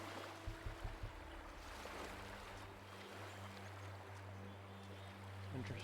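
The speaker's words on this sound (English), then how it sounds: "Oh, there's a lot of water sounds though." Gentle water sounds wash continuously through a game environment in The Talos Principle 2, a steady low churn of lapping and flowing water with a few soft knocks near the start and no talking.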